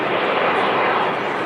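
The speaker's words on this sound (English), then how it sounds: "Huge tail is a giveaway that it's a Airbus A380 with Air France." Air France Airbus A380 jet at Manchester Airport, a dense, loud broadband engine roar filling the whole moment without letup, with talk over it.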